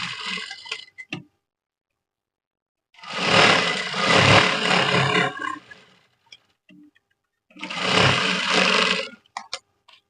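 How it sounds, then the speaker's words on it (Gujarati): A sewing machine stitching around a strip of saree fabric runs in two long bursts of dense mechanical whirring, close and fairly loud, separated by silence and a few short clicks. "હવે આ પટ્ટીની ચારે બાજુ આ સિલાઈ માર દઈશ"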